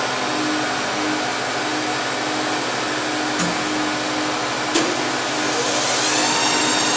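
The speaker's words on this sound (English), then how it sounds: "What you hear in the background is the hot air blower" A hot air blower runs with a steady, loud rushing whoosh throughout, broken only by a couple of brief clicks.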